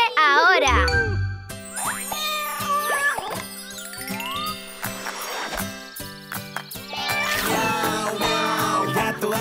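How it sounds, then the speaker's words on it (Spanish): Cartoon-style cat meows in a children's Spanish learning song, several meow calls over bright music with chimes and a voice. "El gato hace miau"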